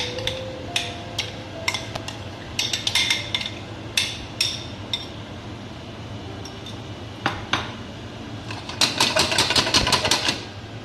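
Rava dhokla batter is stirred briefly before being poured into a plate. A spoon clinks and taps irregularly against the vessel, then speeds into a quick run of clinks near the end.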